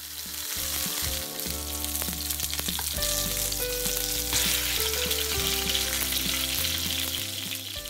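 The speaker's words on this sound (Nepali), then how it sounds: "अब म फेरि अर्को साइडबाट पनि अझै एकछिन फ्राई गर्नेछु" Pork belly fries in a hot pan with loud, continuous sizzling and crackling close up, and occasional stirring or shifting of the meat can be heard underneath.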